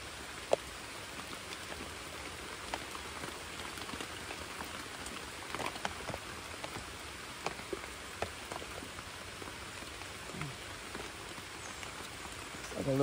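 Steady rain patters nearby, with scattered sharper drops ticking on a surface against a constant wash of hiss; no voices.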